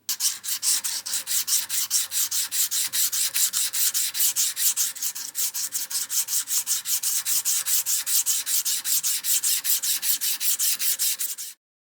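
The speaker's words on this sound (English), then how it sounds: "I used sandpaper backed with a file to keep the edges of the tool sharp." A metal awl shaft is rubbed with sandpaper backed by a file, producing steady rapid back-and-forth scraping strokes, close and loud, evenly repeated without pause for about twelve seconds with no talking.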